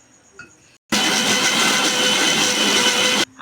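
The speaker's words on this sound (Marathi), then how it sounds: "आपण आता मसाला वाटून घेऊया। मी त्यात पाणी घालते।" A mixer grinder roars to life, blending raw masala with water in a steady, loud, high whirring drone for about two seconds before cutting off abruptly.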